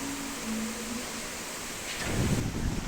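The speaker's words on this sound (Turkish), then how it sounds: "Hava rüzgarlı, yağmurlu ve soğuk." Steady outdoor wind noise buffeting the microphone on a windy, rainy, cold day at a Norwegian hotel spa, with a rougher gust building near the end.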